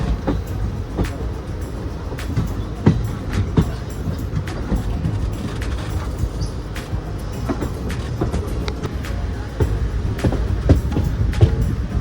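Passenger train running on rails between Kozhikode-area stations, a continuous loud rumble heard from on board with rhythmic clicks and clacks of wheels over rail joints throughout.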